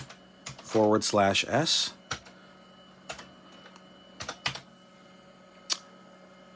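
Keys are typed on a computer keyboard to enter a command on an older PC, scattered sharp clicks in short bursts after a brief spoken word, fairly close and clear in a quiet room.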